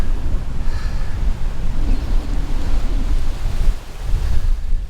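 Strong wind rushes over a wide sandy beach in San Pedro near the Port of Los Angeles, with ocean surf rumbling steadily beneath it and gusts buffeting the microphone, and no voices.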